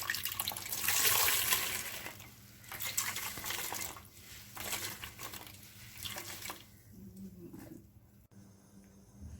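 Water from freshly grated mooli radish wrung out through a cotton cloth, a fairly steady wet splashing and dribbling with several surges and pauses, close and alone, fading to quiet at the end.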